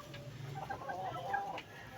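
A gamecock rooster clucks softly in short, uneven bursts at close range, with a low steady background hum beneath and no talking.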